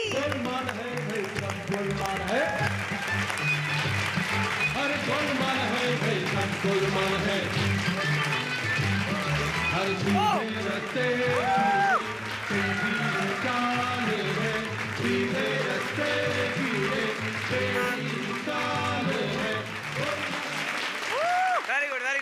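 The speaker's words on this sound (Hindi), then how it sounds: "एक बार जोरदार तालियां हो जाए फॉर राजीव गोल्डी" An audience at a stage comedy show gives a performer loud, continuous applause, with voices and other sounds running over the clapping throughout.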